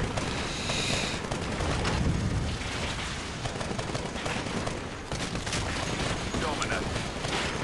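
Missiles fire and explode in a constant, dense barrage in a Titanfall match, a loud roar of blasts and gunfire with no letup and speech mixed into the din.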